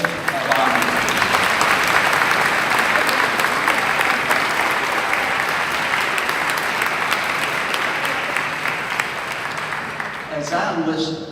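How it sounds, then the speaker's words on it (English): Steady, sustained applause from an audience at an aging-awards ceremony fills the room for about ten seconds, dense and even before tapering slightly near the end. "Let's give a round of applause for this amazing list of honors."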